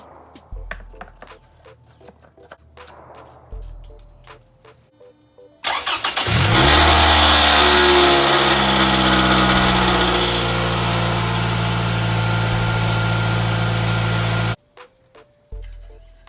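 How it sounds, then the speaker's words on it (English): A Scion tC engine cranks and catches after a few quiet seconds, then settles into a loud, steady idle for about nine seconds before stopping abruptly; light clicks come before and after. "So now I'm gonna start the car and cycle it just before I make my final call"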